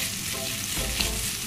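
Chopped onions and garlic sauté in hot oil until golden brown, a steady close sizzle with light stirring scrapes, no voices.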